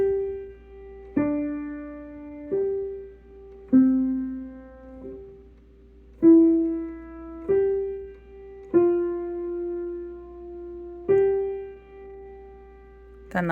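A piano plays the left-hand part of a song slowly: a series of separate single notes, each struck cleanly and left to ring and fade before the next, at an unhurried, even pace.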